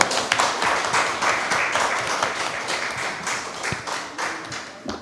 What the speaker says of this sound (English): Let's have a rousing round of applause for Mr. Dexter Rampasad.